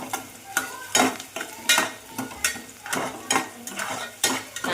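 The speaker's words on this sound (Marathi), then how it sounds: "ह्याच्यात मी कांदा टाकलाय. तो कांदा चांगला गुलाबी करून घेते." Onion frying in oil in a cooking pot, a spoon scraping and stirring in regular strokes about once a second over a soft continuous sizzle, close and clear with no talking.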